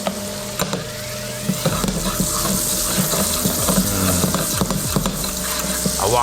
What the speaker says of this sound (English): I'll saute those, and all those flavors are gonna marry now. The butter is gonna add a nice richness and sweetness as well.